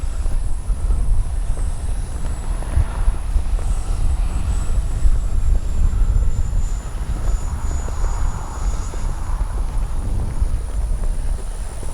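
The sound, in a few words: XFLY F-35 RC jet flying overhead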